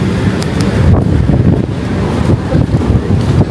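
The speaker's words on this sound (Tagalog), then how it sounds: "Naghangin-hangin na siya." Wind blowing across the open outdoor deck of the Costa Serena cruise ship at sea, a steady low buffeting roar on the microphone that holds for the whole stretch, with no talking.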